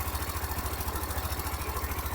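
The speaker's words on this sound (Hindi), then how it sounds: "ये जो इसके अंदर माइनर सी ये टिक टिक की आवाज आ रही है ना" Hero Xtreme 125R motorcycle engine idling after 4000 km, a close, steady low thrum with a fast, even ticking running through it, no voices.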